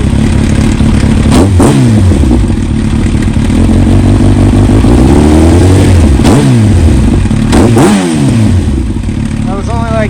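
A 2003 Yamaha R1 sport bike, fully warmed up with a check engine light on, idles loudly up close and is blipped into several sharp revs that rise and fall repeatedly.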